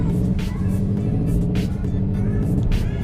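Subaru WRX engine idling after its first start, a steady close low hum with faint hissing bursts on top and a little speech in the background.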